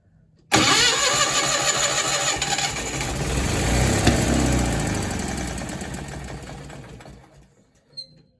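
A Miller Bobcat 225G welder generator engine, its choke off, fires up abruptly after a moment of quiet and runs loud and rough, then fades and dies down near the end with a brief final knock, close by.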